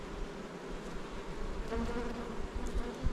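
Honey bees buzz densely and steadily around an open hive frame in an apiary, a close continuous drone of many insects with no talking.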